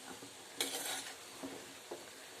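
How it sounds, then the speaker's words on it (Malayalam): Bitter gourd and coconut thoran stirred in a pan, soft scraping strokes with a few light clinks of the spoon against the pan and a faint sizzle beneath, quiet and close, with no talking. "ഇനി നന്നായിട്ട് ഡ്രൈ ആകുന്നിടം വരെ ഇങ്ങനെ ഇളക്കി കൊടുക്കുക"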